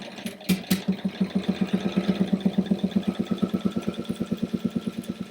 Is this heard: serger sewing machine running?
yes